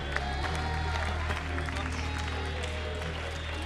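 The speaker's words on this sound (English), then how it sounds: "Let's have a round of applause for him" Applause from a Web Summit 2017 panel audience, a dense continuous crowd clapping mixed with a loud low hum and background noise, steady throughout with no talk over it.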